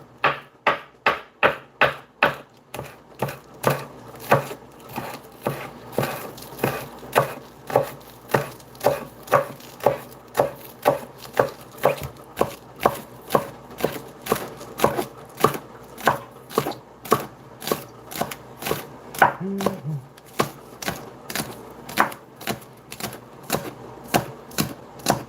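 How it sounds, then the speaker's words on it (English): A knife chops green onions finely on a cutting board in a home kitchen, a fast, steady run of sharp, close knocks that continues for the whole stretch with no talking. "let's cut up these green onions"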